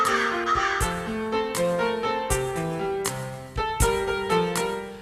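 A crow in a children's story caws repeatedly in sharp, loud calls with short gaps between them and no talking over them.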